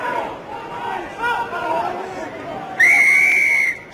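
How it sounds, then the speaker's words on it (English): A referee at a Glasgow Warriors versus Cardiff Blues rugby match gives one long, loud whistle blast near the end, held for about a second over crowd hubbub and commentary. "If ever a use of the whistle suggested a penalty was coming, it was that."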